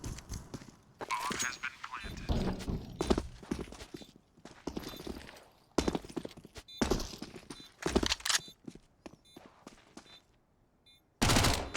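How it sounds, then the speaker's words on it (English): Scout sniper rifle shots in Counter-Strike during a NAVI vs FaZe match at IEM Katowice, sharp bursts of gunfire cutting in repeatedly among game effects under near-constant commentary speech. "It's 2 clean kills from the Scout of Twist as well."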